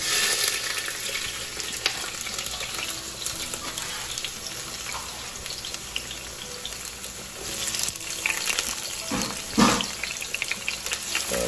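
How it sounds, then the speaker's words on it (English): Onion tossed into hot oil for a Guyanese beef curry sizzles and crackles steadily, a bright continuous frying hiss close by with occasional stirring scrapes. "Oil is hot. You're gonna throw our onion in there."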